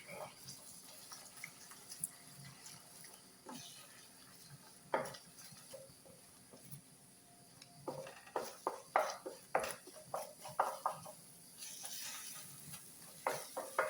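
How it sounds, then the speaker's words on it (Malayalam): Egg being scrambled in a pan with green peas for an egg masala, with scattered scraping and tapping clicks that grow busier in the second half and stay fairly quiet, with a faint voice. "മുട്ട ഒന്ന് ചിക്കിയെടുക്കാം."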